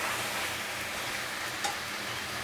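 Chicken cooks over medium-to-low heat in a pan while being stirred, giving an even, moderate sizzling hiss throughout with one faint clink late on.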